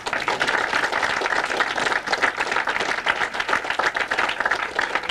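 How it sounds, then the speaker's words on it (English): Dense, continuous applause from a high school audience, many hands clapping at once with a steady roar and no pauses. "Let's give them a round of applause."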